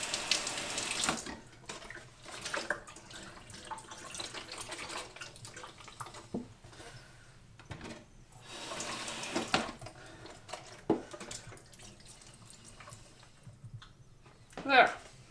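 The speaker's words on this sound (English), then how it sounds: "Now we have to rinse this out so we can, gotta throw it in" Pot being rinsed under a running kitchen tap, with water splashing and streaming into a sink in surges, a voice talking over it, and a louder clatter near the end.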